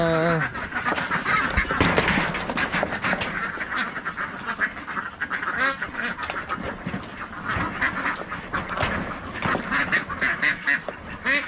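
A large flock of ducks on an egg-laying duck farm quacks loudly and continuously nearby, a dense chorus of overlapping calls with occasional honking, and a voice is faintly heard beneath it.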